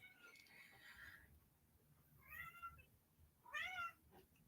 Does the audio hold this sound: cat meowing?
yes